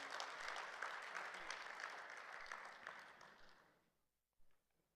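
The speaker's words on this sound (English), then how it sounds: "A round of applause, please." Audience applause at a human resources summit, a moderate round of clapping that gradually thins and dies away, followed by a short murmur of voice near the end.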